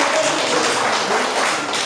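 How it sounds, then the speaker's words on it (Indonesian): Short spell of applause for a speaker in an indoor gathering, a steady patter of many hands clapping together at moderate loudness, with no talk over it. "Tepuk tangan dulu dua-dua Ibu."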